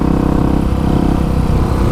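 A 1985 Honda XR350R motorcycle ridden through the desert in third or fourth gear at a steady, moderate pace, its single-cylinder engine thrumming loud and close with no talk.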